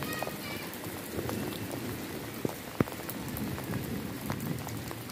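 Heavy rain pours steadily in a village, a dense, loud hiss of drops striking surfaces, with occasional sharper splats and knocks breaking through the constant wash.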